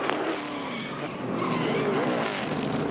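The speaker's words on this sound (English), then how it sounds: "Left rear tire just blew out." NASCAR Sprint Cup race car at Watkins Glen with its left rear tire blown out, loud continuous engine roar and tire noise filling the scene with a rising pitch sweep, no talk.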